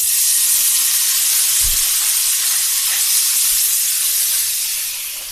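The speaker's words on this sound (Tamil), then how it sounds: "இதில் போட்டு நம்ம ஃப்ரை பண்ண போகிறோம்." Paneer cubes frying in hot oil seasoned with chilli powder give a steady, close hiss of sizzling that holds evenly and eases off slightly at the end, with no voices.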